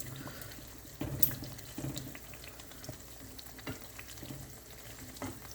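Egg malai curry with milk, spices and eggs simmering in a pan, a soft, steady bubbling sizzle with occasional faint clinks, quiet and close.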